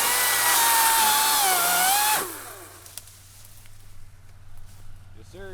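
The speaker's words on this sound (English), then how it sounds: "I got Garrett using a Ryobi on camera" A Ryobi power drill whines loudly and steadily up close for about two seconds, pitch wavering as it works, then cuts off, leaving quiet outdoor background with faint movement.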